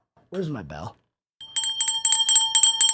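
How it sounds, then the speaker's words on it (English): A handheld bell rings rapidly several times, bright and close, right after a man's brief spoken line at the end of a live sports scoreboard show. "Where's my bell?"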